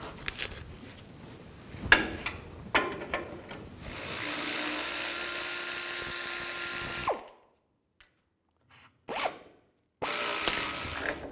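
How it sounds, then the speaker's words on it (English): An 18mm socket on a ratchet is backing off brake shield nuts on a Ford E-250. Close clicking bursts give way to a sustained whirring tool run, then silence and a few short final bursts. "Use an 18mm socket. Take these two nuts off."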